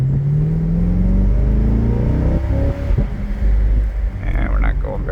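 A 2023 Chevrolet Corvette 2LT pulling forward from a stop, its engine a close, deep rumble that rises briefly and then eases off, with some wind buffeting on the microphone.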